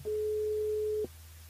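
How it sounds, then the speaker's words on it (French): A single steady telephone line tone sounds for about one second while a radio host dials a listener's mobile, then cuts off to quiet line hiss. "On appelle Mickaël"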